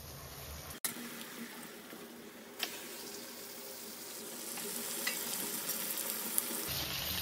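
Meat frying in a pan after ginger and garlic were sautéed, a steady sizzle with scraping stirs and a few sharp clinks, close and without talk.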